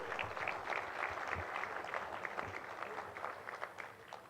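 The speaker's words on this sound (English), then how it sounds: "Can we give them a round of applause?" A summit audience claps for MTN Group in a continuous, fairly faint patter of applause spread across a hall, with no speech over it.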